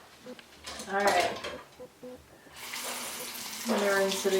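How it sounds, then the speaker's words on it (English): Warm tap water runs and splashes into a sink in bursts, with brief clinks and a short voice partway through. "I'm gonna rinse it again with some warm water and then cold water"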